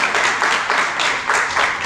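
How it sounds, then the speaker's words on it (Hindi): A hall audience at a Jain monk's spiritual discourse bursts into applause, a steady wash of many hands clapping together in a short, fairly loud burst with no talk over it. "इस पर ताली बजाइए आपने"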